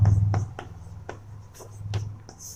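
Marker or chalk strokes on a classroom board during a lecture, heard as a series of short scratchy taps and squeaks in uneven rhythm. A teacher's voice hums faintly underneath.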